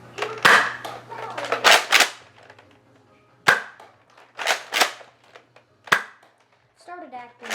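Foam-dart Nerf guns firing indoors: a handful of sharp, snappy pops spaced irregularly, close and loud, with people talking between shots.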